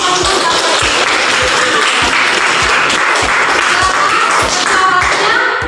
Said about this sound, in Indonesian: Kalau gitu tepuk tangan dulu.